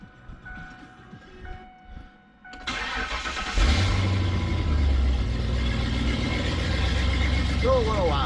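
A modified Mercury Mountaineer with exhaust leaks cranks briefly after quiet background sounds, then fires up and settles into a loud, steady running rumble in a closed garage, with a voice heard near the end.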